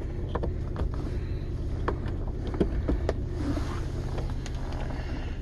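A Dodge Nitro with the 4.0 engine idles slow and steady, a low continuous hum with faint ticks and clicks on top and no one speaking.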